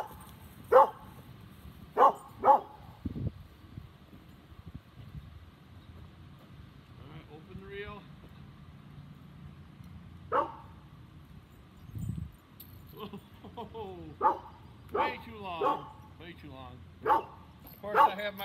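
A small dog barking in short sharp bursts and yips scattered across the stretch, some single and some in quick pairs, with someone talking intermittently between them and faint jangling in the background.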